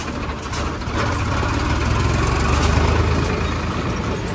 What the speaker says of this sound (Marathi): हा 55 हॉर्स पॉवरचा ट्रॅक्टर आहे